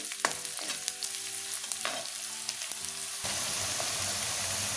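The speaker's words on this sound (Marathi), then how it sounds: "ते तेलावर आपल्याला छान परतून घ्यायचे। कांदे आपल्याला ब्राऊन करून घ्यायचे।" Onions sizzle in hot oil while a spatula scrapes and knocks against the pan in an uneven rhythm, then the frying settles into a louder, steady hiss.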